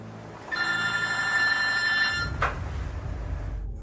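A telephone bell rings with a bright, continuous trill for about one and a half seconds, then cuts off with a sharp click, followed by low rumbling room noise.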